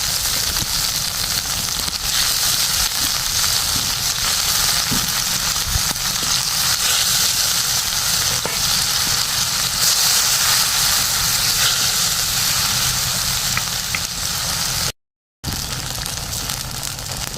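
Fried koi fish added to a pan of spiced masala, giving a loud, constant crackling sizzle with no talk, interrupted by a brief dropout near the end.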